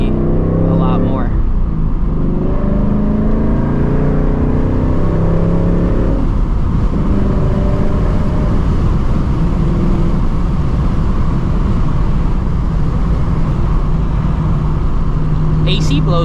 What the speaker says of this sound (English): I got the windows cracked so y'all can hear the exhaust a little bit more